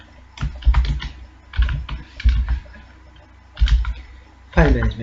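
Close-up bursts of fast clacking keystrokes on a computer keyboard as C code for file handling is typed, arriving in several short flurries separated by brief pauses.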